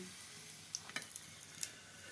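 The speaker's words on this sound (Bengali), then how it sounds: "টিফিনটার এক পাশটা ভাজা হয়ে গিয়েছে, এবার অপর পাশটা উল্টে দিচ্ছি" A flour and potato snack sizzles softly in hot oil as it is flipped, a faint steady frying hiss broken by a few small crackling pops and light taps.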